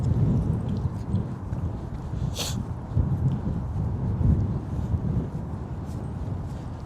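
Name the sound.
cold wind blowing in Toronto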